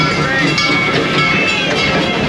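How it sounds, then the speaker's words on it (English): A loud, steady rumble and metallic hiss of an amusement park train rolling past at close range at Busch Gardens Tampa, with no clear voices. "you can also wave at our sister train rolling on by"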